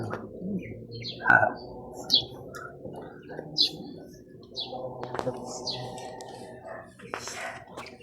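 Large chicks cheep and chirp in short scattered calls over a low background murmur, with a few louder tweets standing out. People talk softly at times.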